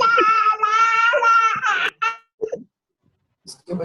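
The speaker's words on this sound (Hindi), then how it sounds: "इसके बच्चे रो रहे हैं।" Children cry in the background of an online class, a loud, close, high wailing that lasts about two seconds and then breaks off into short sobs and silence.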